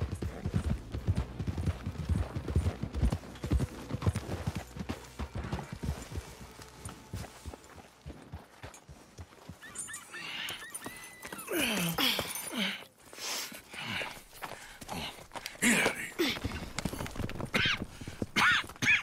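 Hooves clip-clop steadily as horses move along in the video game Red Dead Redemption 2, with an occasional whinny and other scattered sounds layered over the busy mix.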